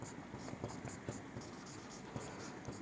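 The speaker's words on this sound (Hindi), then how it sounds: "मैं यहाँ पे लिख देता हूं" A marker writing on a board during a lecture, a quiet close run of short scratchy strokes with small taps between them, with no talking over it.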